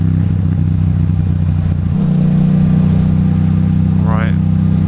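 A car engine pulls hard from about 4,000 RPM, a steady loud drone from inside the cabin that climbs in pitch as it revs, with a voice talking over it.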